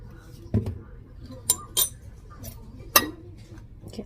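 A utensil clinks against a bowl while black pepper and seasoning salt are mixed in, giving a few sharp, separate metallic taps spaced through the moment over a quiet room.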